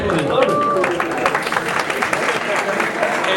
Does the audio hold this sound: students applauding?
yes